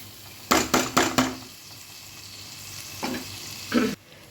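Masala paste for tomato paneer being fried and stirred in a pan, heard as a quick run of three loud scraping strokes, a quieter sizzling pause, then two more scrapes before it cuts off.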